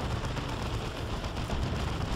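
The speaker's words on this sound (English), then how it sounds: "That was a big boom shot by the looted tank there." A looted tank fires a big shot in Dawn of War 2: Retribution. The sound is a dense, continuous rumble of battle and artillery noise held at steady loudness for a couple of seconds, with no talk.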